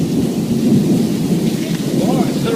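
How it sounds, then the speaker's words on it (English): Heavy rain pours down in a thunderstorm on a rainy day with marines, a loud dense roar with low thunder rumbling through it, steady and close for the whole stretch, with no talking. "The rain is so fucking thick you can't like even see."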